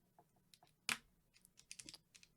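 Mechanical keyboard switches are pressed by hand into the plate of a GMMK TKL board during a build, giving scattered sharp clicks and snaps at irregular intervals with one loud snap near the start.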